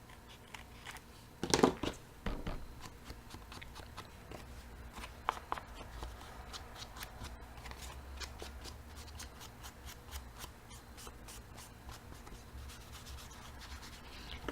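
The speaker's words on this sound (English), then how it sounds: "I'm just going to trim it off." Scissors trimming cardstock on a stocking flipbook bag, with a cluster of crisp, close snips and paper rustle near the start, then quieter intermittent cutting ticks and handling sounds, no talking.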